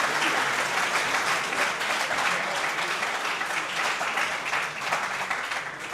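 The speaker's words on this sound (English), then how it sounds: "Let's give them all another round of applause." Audience applause at an evening school assembly after student Supreme Court candidates are presented, a dense, steady wash of many hands clapping at once that holds evenly for several seconds without voices.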